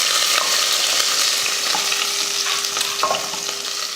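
Four or five crushed garlic cloves fry in oil with mustard seeds, curry leaves and dried red chillies, making a loud, close, continuous sizzle broken by scraping stirs and small pops, with no one speaking.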